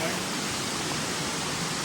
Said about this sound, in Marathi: तर मुख्य धबधबा तिथे आहे